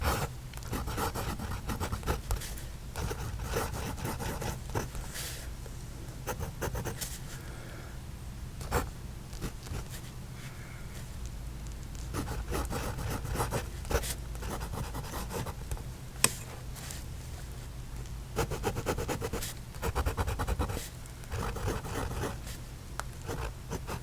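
A steel-nib Pilot or Platinum pocket fountain pen, loaded with turquoise ink, scratches steadily across paper in close, continuous faint strokes with brief pauses between lines.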